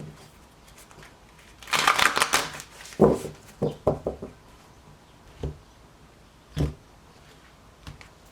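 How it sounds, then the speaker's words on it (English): Tarot cards being shuffled by hand: a dense riffling burst, then several crisp separate taps and slaps of the deck, close and fairly loud with no talking. "Couple more shuffles here."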